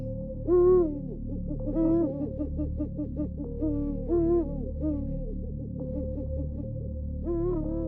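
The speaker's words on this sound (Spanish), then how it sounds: "Algo así como el sonido de un búho" Owl hooting at night in the wild hills, several drawn-out hoots repeating every second or two over a steady low background hum, clear and moderately close.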